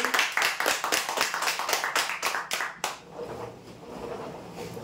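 Audience clapping for a prize-draw winner at a weekly lucky draw, a quick run of sharp, fairly rhythmic claps for almost three seconds that stops abruptly, leaving quiet room noise.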